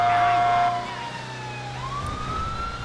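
Police car siren in GTA V, wailing tones sweeping up and down close by, with a steady engine drone underneath; no talking.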